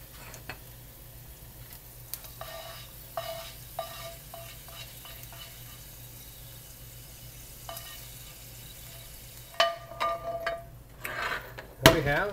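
Yellow pond lily seeds popping in a pan while a spatula keeps them in, a quiet sizzle with scattered sharp pops and clicks that grow louder and denser toward the end.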